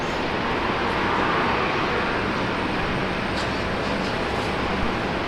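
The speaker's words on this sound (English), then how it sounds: "Officially saying hello to everyone with the arrival of this Korean Air." Korean Air passenger jet arriving at Brisbane Airport, a steady broadband engine roar held at constant loudness throughout, with no voices over it.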